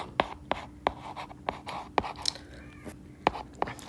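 A pen writes on paper during a class 9 math lesson, with close, crisp tapping strokes and short scratches in an irregular rhythm and no talking.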